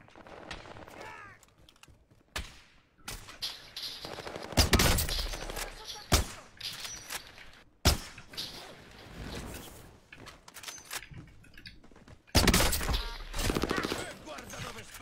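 Gunfire in a video game, bursts of rapid shots and single loud cracks scattered among quieter stretches, with game mechanism sounds and occasional speech in between.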